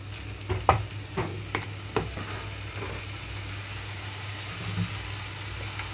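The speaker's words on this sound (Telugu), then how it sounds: "మీడియం ఫ్లేమ్లోకి టర్న్ చేసి వేయించుకుంటున్నాను" Ginger-garlic paste and chopped tomatoes fry over medium flame in a pan for mushroom masala curry, giving a steady sizzle with several sharp stirring scrapes and clinks up close, and no talking.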